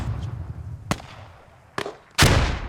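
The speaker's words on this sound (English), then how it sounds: "Ooh, big explosion. There goes that truck." A truck blows up in a tactical video game: two sharp, isolated blasts followed by a larger, sustained explosion over steady background rumble.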